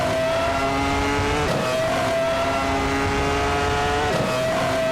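1996-era race cars lap the tight Norrisring street circuit, one engine's steady high whine holding pitch, then dropping and rising again as it shifts, loud and continuous with no voices.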